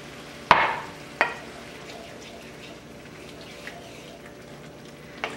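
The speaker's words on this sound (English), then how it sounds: "To my tomatoes, garlic, and onion, I'll add in 3/4 cup of beef broth." Beef broth goes into a pan of home-canned whole tomatoes, garlic and onion with a sharp splash and sizzle, followed by softer clinks and stirring over a low, steady background, heard close with no talk.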